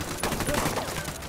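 Gunfire from Ghost Recon Wildlands: a short, dense burst of rifle shots blending into one rattling volley, fairly loud and close, heard briefly without speech.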